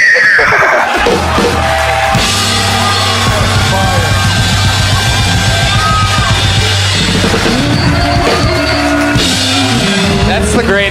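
A voice imitates a horse neighing, with loud, shrill whinnying cries held over several seconds, and crowd noise and laughter mixing in throughout.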